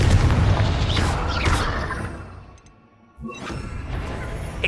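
A Confringo explosive spell from the Hogwarts Legacy video game blasts with heavy booming crashes and whooshes, dips briefly into near silence, then erupts again with another loud burst amid ongoing combat noise.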